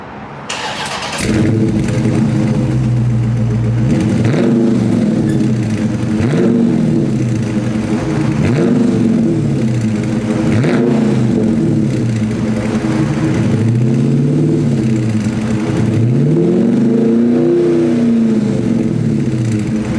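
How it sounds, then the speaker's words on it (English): A Dodge Scat Pack car engine cranks and fires, then holds a loud, rumbling idle with repeated revs that rise and fall in steady swells, close and alone. "we're gonna go ahead and start up the car"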